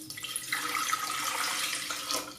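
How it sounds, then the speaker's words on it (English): Three cups of water pouring steadily into an Instant Pot Duo Mini pressure cooker pot, a continuous splashing gurgle close by for a couple of seconds. "Measure 3 cups of water with the included cup."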